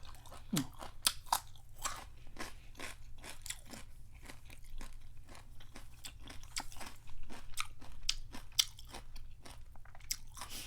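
Crispy food crunched and chewed close to the mic, with rapid, irregular bites and crackles running steadily throughout, no talking, alongside Thai khanom jin rice noodles with spicy fish curry.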